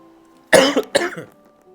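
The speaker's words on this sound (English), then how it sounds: "God, here comes my cough again." A close, loud cough made of two harsh bursts in quick succession, followed by a brief raspy trailing sound, with no talking.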